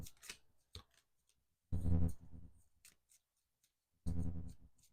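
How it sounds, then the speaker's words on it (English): A deck of animal oracle cards being shuffled by hand in two short, crisp riffling bursts with quiet gaps and a few light clicks between, close and clear with no talking. "And shuffle 2 more times."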